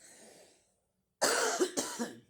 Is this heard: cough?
yes